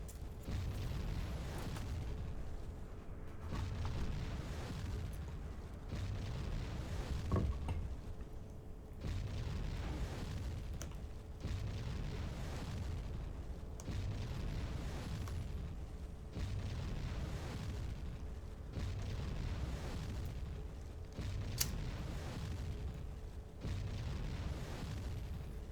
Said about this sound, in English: this is going to be the Japanese artillery phase